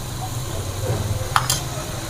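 Mutton kidney and testicle masala fries in a pan under a steady low sizzle, with a brief scrape and clink of the spoon near the end as it is stirred.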